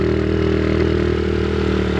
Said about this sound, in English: The engine, the throttle control, it's a real motorcycle.